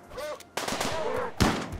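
Mini turret firing in the RimWorld video game, heard as two sharp bursts of gunfire, the second brief and punchy, over a low bed of game noise and faint voices.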